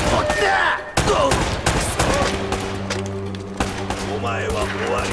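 Gunfire from a shotgun enemy in the PS4 video game Uncharted: Drake's Fortune, with repeated sharp blasts and broadband bursts over a sustained in-game hum, mixed with someone talking.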